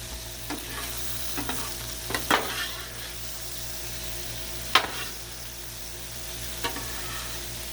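Garlic frying on a Blackstone griddle for jambalaya, a steady close sizzle broken by a few sharp scrapes and clacks of a spatula as it is stirred, with no one talking.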